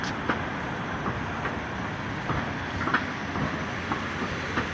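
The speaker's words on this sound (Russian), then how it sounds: "Коломенский трамвай." A Kolomna tram rolling past on street rails, a faint steady rumble with soft periodic wheel clicks at a moderate distance.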